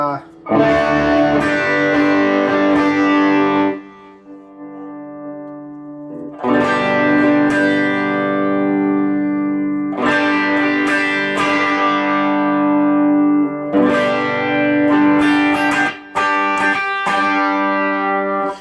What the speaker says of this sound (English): I'm gonna try to match it with the tube driver on a light overdrive / boost